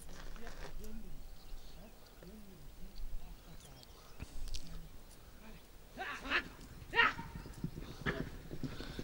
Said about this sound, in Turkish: Bak atlar nasıl gidiyor.